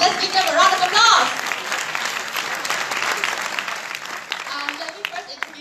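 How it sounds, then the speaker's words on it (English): Audience applause at a Nu Skin event, a sustained wash of clapping from a crowd that swells loud at the start and holds steady throughout, with some voices mixed in. "let's give them a round of applause"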